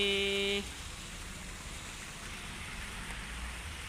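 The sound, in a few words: rain falling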